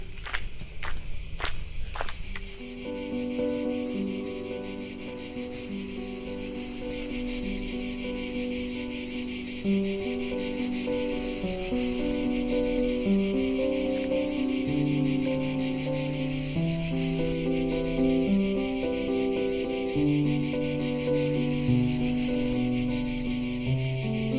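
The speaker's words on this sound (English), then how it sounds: "the cicadas, or cicadas, however you like to say it, are rubbing their wings together" High, continuous shrill drone of cicadas at sulphur hot springs in Tuscany, Italy, filling the background, steady and unbroken, with some quieter tonal sounds and a few brief knocks early on.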